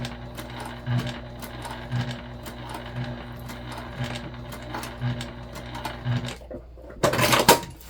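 Sewing machine top stitching a fabric mini backpack, a steady close mechanical whir with rhythmic needle thumps throughout, ending in a short louder clatter as stitching stops.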